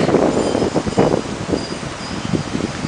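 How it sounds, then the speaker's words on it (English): Gusty wind blows outdoors, buffeting close to the microphone in a rough, uneven rush, with leaves rustling underneath. "It's very windy today."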